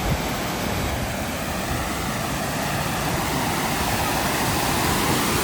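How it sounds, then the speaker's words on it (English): Loud, continuous roar of rushing water at Cannon Hall leisure grounds, Barnsley, fills the whole clip, a broad steady wash of noise close by. "if you can hear me over the roaring water"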